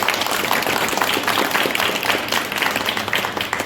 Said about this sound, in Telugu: ఒకసారి దయచేసి గట్టిగా చప్పట్లు కొట్టారు మా పిల్లలకి